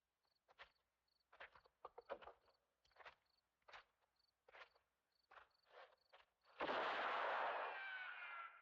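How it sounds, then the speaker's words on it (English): A loud, echoing gunshot from a Sergio Leone western, recorded in a quarry near Rome, bursts out near the end after a series of soft footstep-like knocks and keeps ringing in a long decaying tail. "The distinctive sound of the gunshot"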